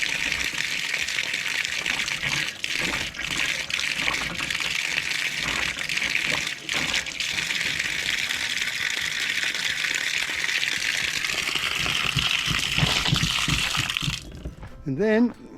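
A water pump runs in a shop, steadily gushing water mixed with sputtering air bursts, then stops abruptly near the end, where a voice speaks briefly.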